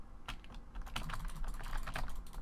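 Rapid, uneven computer keyboard typing close up during Minecraft play, a steady patter of key clicks with no talking.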